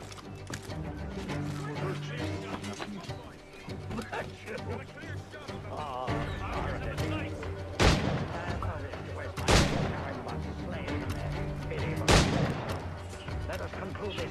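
Gunfire rings out in the Assassin's Creed IV Black Flag video game, with three sharp loud shots spaced a couple of seconds apart over busy game music and ambience.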